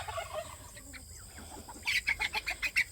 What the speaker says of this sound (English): The other chicken stopped it.